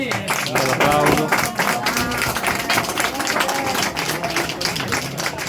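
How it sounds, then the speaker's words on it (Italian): Applause from a crowd at a demonstration of a traditional Sardinian almond sweet being made, brisk clapping layered with chatter and talking, loud and sustained throughout. "L'applauso."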